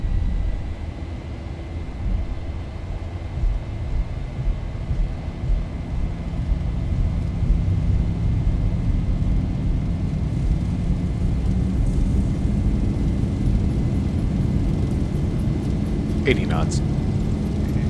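An airliner's engines spool up to full takeoff power, a broad roaring rumble that builds and holds steady, with cockpit voices speaking over it.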